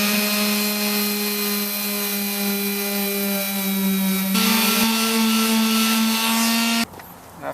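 A power sander works on peeling paint on the sheet metal of a Ford Crown Victoria P71, giving a steady, loud, high whine that shifts in pitch midway and cuts off near the end.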